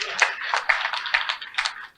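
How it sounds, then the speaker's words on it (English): An audience at a women's award speech in a hall claps in a short burst of a few quick, sharp, close claps that fades after two seconds. "Please clap for me now."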